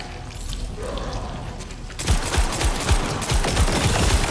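Gunfire in the Spider-Man 2 game starts after a quieter stretch, then runs as a steady string of sharp, close shots layered over a busy background of impacts.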